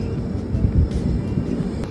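Sealdah Ajmer Express 12987, an orange and black train, rolls into Tundla Junction with a close, steady low rumble and faint high hiss, with no voices.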